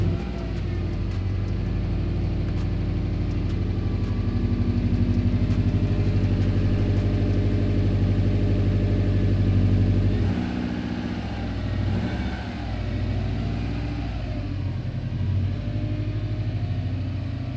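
A Mitsubishi Evo VIII engine runs steadily at idle with a deep, even rumble, loud and close; around the middle the tone drops and wavers a little before settling back into a constant hum.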